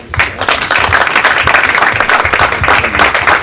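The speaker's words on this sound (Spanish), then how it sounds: "Está con nosotros, aplausos." An audience at an engineers' award ceremony for 25 years of service claps steadily and loudly, a dense run of applause that lasts throughout with no voices over it.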